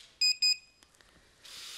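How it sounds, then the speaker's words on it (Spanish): A hotel door lock card reader gives two short, sharp electronic beeps in quick succession, followed by faint handling clicks and a soft hiss, with no speech. "Suenan dos bips."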